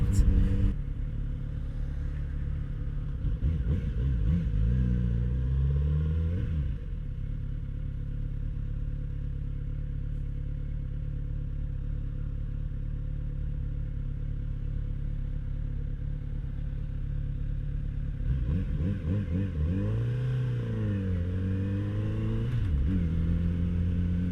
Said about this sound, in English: All I can hear is this wonderful Kawasaki 4-cylinder just doing what it does